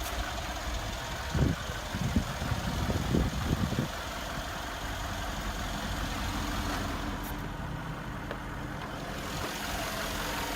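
A 2017 Mercedes-AMG G63 with its 5.5-liter bi-turbo V8, die-cast alloy block and alloy heads, idles with the hood open: a steady, close mechanical rumble with a few dull knocks early on, and no talking.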